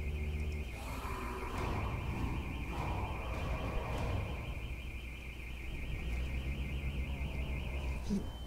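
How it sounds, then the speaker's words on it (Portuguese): A car alarm sounds outside, its warbling siren tone cycling steadily and loud over a low rumbling background with faint muffled sounds beneath. "eu só fui checar ali se esse alarme de carro não era aqui"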